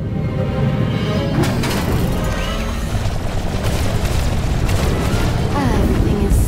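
In the SWTOR video game, a spaceship is destroyed in a loud, continuous rumbling explosion that keeps roaring the whole time, with a few crackling bursts and a whooshing sweep layered over it.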